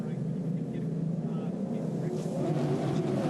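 Several V8 race utes held at 2,500 RPM together on the starting grid at Winton, a steady, droning roar from a short distance away.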